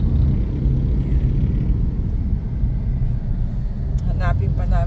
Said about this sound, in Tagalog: Ayan, traffic. Kahit na Saturday.